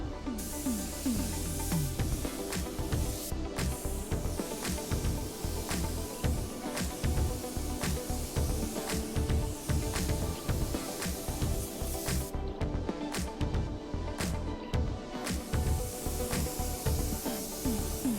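A spray gun hisses steadily as it lays a second base coat on the bumper of a black Lexus, with continuous close airy spray broken by brief pauses and small clicks.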